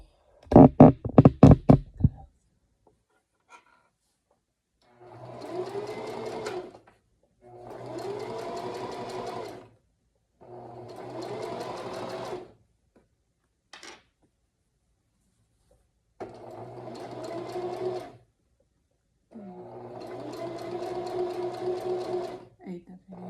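A Singer sewing machine runs a straight stitch in five separate bursts of rapid mechanical whirring, each lasting a couple of seconds with pauses between, after a sharp clattering knock at the start.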